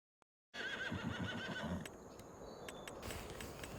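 A horse in the Farming Simulator video game gives a loud, close whinny that trails into continuous hoof clip-clop and movement noise, with a few sharp clicks near the end.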